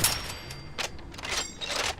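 Shots from the XM2076 mod weapon in Fallout 4, a few sharp reports spread over two seconds, each a broadband burst over a steady game background, fairly close and moderately loud.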